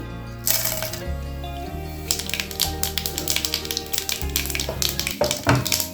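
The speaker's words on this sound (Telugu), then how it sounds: "ఇప్పుడు మనం తాలింపు పెట్టుకోవడానికి దినుసులు వేసుకోవాలి." Tempering spices crackle and pop in hot oil in a pan for an aloo kurma, dense sharp spattering bursts over a low hum, close and continuous.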